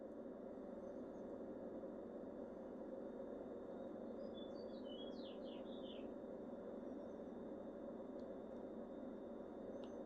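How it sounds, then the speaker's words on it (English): A few faint bird chirps over a constant low outdoor hum, brief twittering in the middle of an otherwise steady background. "You hear the birds?"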